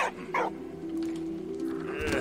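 In a World War I video game, a dog barks and yips twice in quick succession, close and fairly loud, followed by a drawn-out whine over ongoing game sounds.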